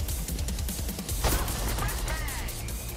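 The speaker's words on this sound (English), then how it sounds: "Oh my god, they're shooting." Gunfire from the Crime Boss: Rockay City heist game, a dense ongoing fusillade of shots and impacts under busy game noise, with a sharper crack near the middle and players talking over it.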